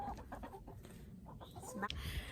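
A skinny backyard chicken clucks softly at close range, with low murmurs and rustling around it and a person speaking nearby.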